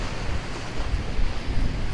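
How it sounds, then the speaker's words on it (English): Ocean waves pound the shore in a continuous, loud roar of surf, with wind buffeting the microphone throughout. "the ocean's really pounding me here"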